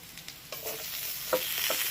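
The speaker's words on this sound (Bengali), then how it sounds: "এইভাবে আলুগুলোকে পুরো ভেজে নিয়ে তারপর ওটা থালার মধ্যে তুলে নিচ্ছি" Potato pieces frying in oil in a wok, giving a steady sizzle with a few scraping stir sounds and no talking.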